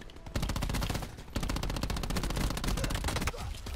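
Rapid automatic gunfire in Black Ops 4 rattles in long, dense bursts, loud and close, with a brief gap between volleys.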